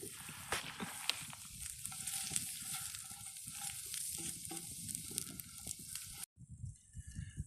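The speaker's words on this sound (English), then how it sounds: "That nice sizzle." Onions sizzle steadily in a skillet heated over a mesquite fire on a flat rock, a continuous close crackling hiss with small pops, cutting off abruptly near the end before brief quieter rustling.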